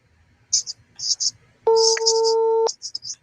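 A phone line busy signal tone sounds as one steady, loud electronic buzz lasting about a second, set between bursts of whispered, hissy speech before and after it.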